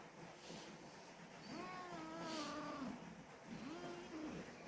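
A cat meows a few times, a drawn-out wavering cry followed by a shorter one, close by over a steady background hiss.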